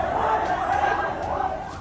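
Hundreds of angry protesters shout and roar outside Bangabhaban, the presidential palace in Bangladesh, a dense, continuous crowd din with rising cries, loud and sustained throughout.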